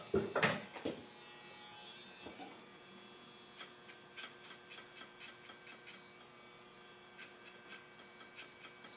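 Electric hair clippers fitted with a guard, cutting hair in a barber shop, with a low steady motor hum and soft rhythmic buzzing bursts as strokes pass through the hair, close and fairly quiet without talk.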